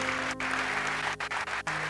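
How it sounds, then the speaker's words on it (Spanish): A church congregation applauding loudly for the King of Glory, dense continuous clapping close by with a few brief dips, no talk over it. "Dale ese aplauso bien fuerte al Rey de la Gloria."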